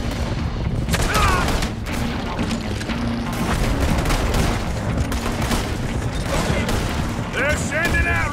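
A shootout in Red Dead Redemption 2: repeated gunshots and booming volleys crack throughout, dense and loud, mixed with shouting voices and horse and wagon commotion.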